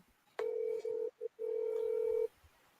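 A telephone tone sounds on a call line: a steady electronic beep broken by short gaps into a few segments, clear and fairly loud against a quiet background.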